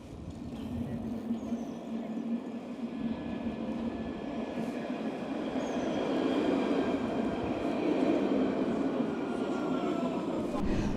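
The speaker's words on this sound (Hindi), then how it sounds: "आप देखोगे सामने तो मेरी ट्रैम आ रही है" A city tram in Australia pulling in, a steady low rumble of wheels and motor that grows slightly louder toward the end, with no voices over it.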